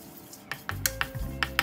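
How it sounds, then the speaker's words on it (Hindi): White sesame seeds roasting in a pan for momo chutney: a scattering of sharp clicks and light crackles from the seeds, several distinct taps over a soft background, close and moderately quiet. "उसके लिए लिया है मैंने वाइट वाला तिल, उसको रोस्ट कर लेना है"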